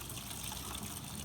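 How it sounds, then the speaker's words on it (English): Water runs steadily from a garden hose into a plastic tote, a continuous broadband rush with no talk over it. "And can you turn off the water?"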